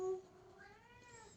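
A single drawn-out meow from a pet cat indoors, close and fairly soft, its tone rising slightly midway.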